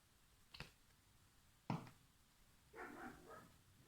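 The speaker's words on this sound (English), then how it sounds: "dog is barking." A dog barks a few times in the distance, sharp isolated yaps separated by pauses, faint against a quiet background.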